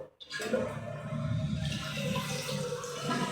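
A toilet flushing after its tank water level was adjusted: a sudden rush of water follows a brief quiet start, then turns into a sustained close gurgling and refill hiss.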